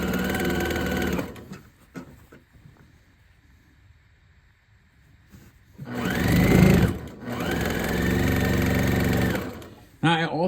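Sewing machine stitching quilt seams in a fabric layer cake quilt top, running in two loud, steady close bursts with a quiet pause between them.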